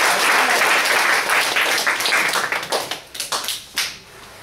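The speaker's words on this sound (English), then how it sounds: "Let's give Sean a round of applause." An audience applauds for a child introduced on stage, starting as dense, steady clapping that thins into scattered individual claps toward the end.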